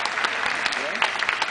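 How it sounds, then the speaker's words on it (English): An audience applauds the Queen at a concert event, with a brief burst of dense clapping mixed with murmuring and possible talk underneath. "Yes, she deserves a round of applause"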